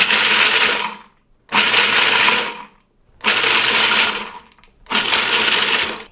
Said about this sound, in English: We're going to take the pulse button and turn it on, then off, then on, then off, until we reach the desired grind consistency.